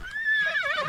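A horse gives a single short, close neigh, a bright whinny that rises and wavers before trailing off within about a second.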